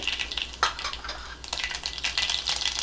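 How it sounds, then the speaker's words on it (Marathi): Dense crackling and popping of mustard seeds spluttering in hot oil for a tempering, steady and close, with brief bursts of stirring, no voices. "मोरी छान तडतडी आहे"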